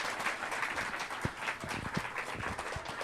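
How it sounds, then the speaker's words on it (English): A comedy club audience applauds, loud and dense, with many hands clapping in a continuous wash and a few sharper individual claps standing out. No talk over it. "Give Tracy a big round of applause."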